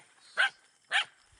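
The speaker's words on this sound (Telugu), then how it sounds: "అయ్యా ఈ పెద్ద కుక్కల మా పక్కలే" A dog at a village fair gives two short, sharp barks about half a second apart, clear and moderately close against a quiet background.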